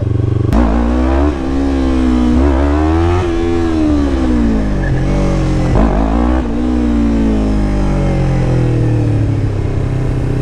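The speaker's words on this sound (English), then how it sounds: "you can learn the little pow-pows, little power wheelies." Yamaha R3 motorcycle engine revving hard and repeatedly during power wheelie attempts, loud and close with rising and falling pitch sweeps, no talking.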